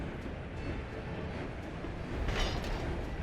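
Trains rumble and clatter steadily in the Soviet-era city-building game Workers & Resources: Soviet Republic, a continuous rolling rail drone that swells slightly near the end, with no talk over it.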